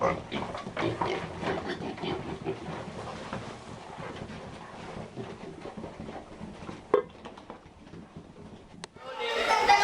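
Pigs bound for slaughter grunting and snorting in a noisy jumble on a truck, mixed with rumbling and wind buffeting, loud at first and then somewhat quieter.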